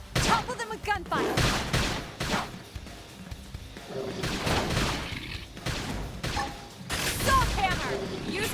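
Gunfire in Xenoblade Chronicles X combat, with bursts of shots and heavy impacts in irregular clusters, loud and close, mixed with battle effects and game voice lines.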